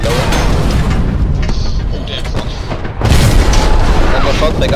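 Heavy tank cannon blasts in Hell Let Loose on the Foy map, with deep booming rumble throughout and a louder surge near the end, mixed with engine and battlefield noise under voices.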